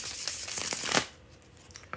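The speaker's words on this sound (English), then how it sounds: "The bridge shuffle." A deck of playing cards is bridge shuffled: a quick, dense riffle of flicking cards for about a second, then a soft cascade as the deck is squared up, close and crisp.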